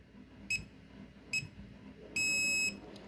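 Beeps from an RFID lock while a key card is programmed: two short electronic beeps, then one longer beep, sounding close and clear over a quiet background.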